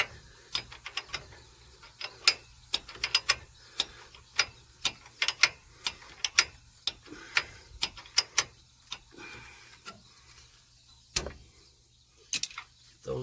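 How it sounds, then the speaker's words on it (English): A hand wrench ratcheting to tighten a stud on a CV axle of a 2010 Chevy 1500 pickup, sharp irregular clicks in short runs with brief pauses, close and clear against faint background noise. "And then I'm just sucking it down now with a wrench"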